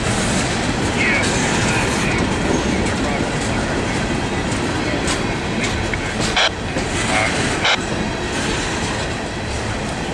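A CSX freight train rumbles past steadily and loudly, with rhythmic clacking of wheels over rail joints throughout.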